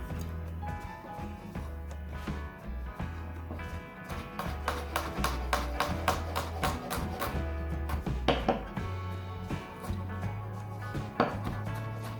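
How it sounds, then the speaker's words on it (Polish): Knife chopping garlic on a cutting board, a steady run of sharp close taps that speeds into quicker clusters, with some light clinks of kitchenware in a quiet kitchen. "Skroję również czosnek, jak i zetrę imbir."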